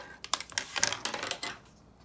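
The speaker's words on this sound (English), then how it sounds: "just type it right in your calculator" Buttons on a calculator are tapped in a quick burst of about a dozen light, close plastic clicks while numbers for a fraction equation are entered, with no voice over them.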